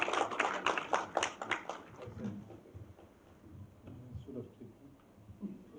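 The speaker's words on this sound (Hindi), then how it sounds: "एक बार जोरदार तालियां फॉर पंकज त्रिपाठी जी।" An audience at a film song launch event bursts into loud applause that fades after a couple of seconds into scattered claps beneath someone speaking into a microphone.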